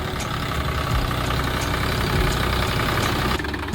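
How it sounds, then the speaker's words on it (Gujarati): Steady low drone of a Mahindra Yuvo Tech+ 405 DI tractor engine running in two-wheel drive nearby, continuous and fairly loud with a rough, throbbing texture. "આ જે ટ્રેક્ટર ચાલી રહ્યું છે જે તમે જોઈ રહ્યા છો"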